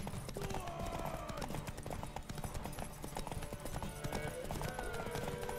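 Rapid clip-clop of horse hooves at a steady gallop in The Witcher 3: Wild Hunt, with a horse whinny and voices talking over a busy game soundscape.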